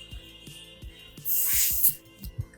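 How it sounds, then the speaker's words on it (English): A deodorant spray can releases one sustained hissing burst lasting about half a second, close and loud, amid soft thumps and handling noises. "I'm gonna just spray some deo"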